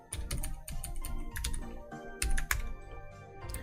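Close, crisp typing on a computer keyboard, with irregular bursts of sharp key clicks and a few heavier thumps, heard alone without talk.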